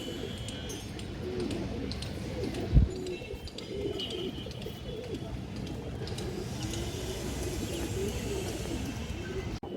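Pigeons coo continuously in a loft holding flocks of black female breed pigeons, a dense murmur of low overlapping calls with one sharp knock, close and steady throughout.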